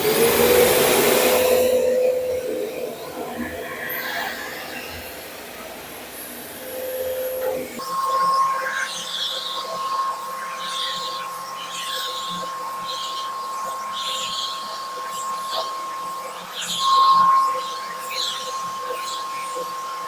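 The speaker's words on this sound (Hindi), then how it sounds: "और अब मैं वैक्यूम क्लीनर को ऑन करता हूँ" An Agaro ACE wet and dry vacuum cleaner running on a dusty floor, a loud whooshing roar at first that drops into a steadier whine with a tonal hum and fluctuating suction noise.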